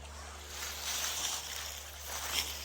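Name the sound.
flowing creek water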